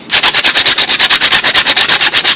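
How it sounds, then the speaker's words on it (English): Frozen ginger is grated in quick, even strokes, a fast regular rasping scrape repeated about twenty times, close and loud with no one speaking. "we get some ginger, and it's actually frozen, so it grates really well"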